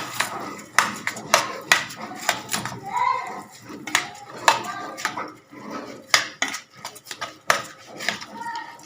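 A spoon stirs a rice stuffing mixture for mombar in a pot, giving repeated clinks and scrapes against the metal in an irregular rhythm, close and fairly loud, with faint background voices.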